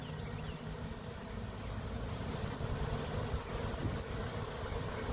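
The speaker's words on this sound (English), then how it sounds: "now there's a bunch of bees coming back in this colony" Honeybees returning to their hive after swarming produce a constant low buzzing drone, a dense hum of many wings that swells slightly louder toward the end, with no talking.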